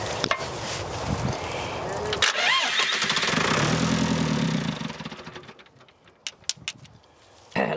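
A cheap, worn telehandler's diesel engine cranks and catches, running with a rough mid-pitched chug for several seconds before dying away, with people talking nearby around it.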